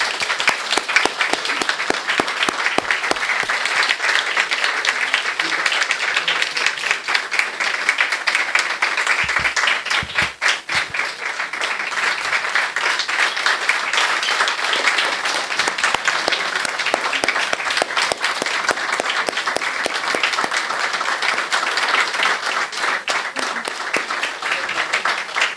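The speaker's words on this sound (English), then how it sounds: "I want you guys to applaud our scholars." Seated guests at a school board meeting give student scholars loud, sustained applause, dense clapping that keeps going for the whole stretch with only a brief dip partway through.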